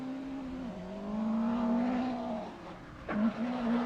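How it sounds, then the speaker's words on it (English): A rally car in a rally event drives down the back straight, its engine note holding steady and rising in pitch through the gears. It passes fairly close and stays clear, with no talk over it. "car 30 just coming down that back straight"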